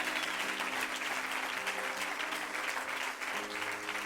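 A church congregation applauds together, dense sustained clapping at moderate distance that runs the whole stretch without a break.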